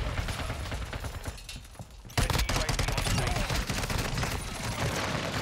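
Rapid video game gunfire ending in a headshot, a dense burst of shots that drops briefly, then resumes louder and sustained for several seconds.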